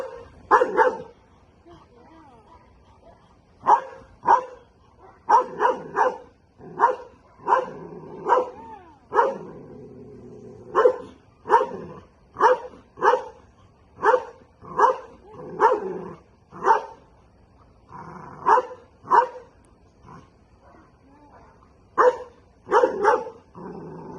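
A protection dog barks repeatedly during a training consultation, loud sharp barks in uneven bursts close by, with a person talking between and under the barking.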